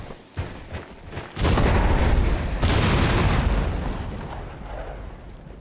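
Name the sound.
explosions in the video game Rainbow Six Siege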